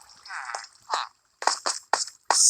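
Water drips and splashes inside a video game iron farm, a string of short wet plops arriving in uneven bursts with brief silent gaps between them.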